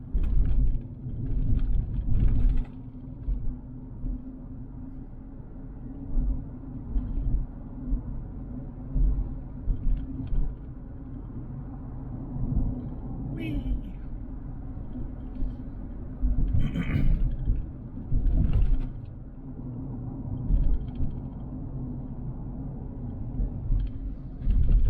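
A car drives along Dallas streets through Oak Cliff, heard from inside as a steady low engine and road rumble with occasional bumps and brief rattles, continuous and close, with no talking.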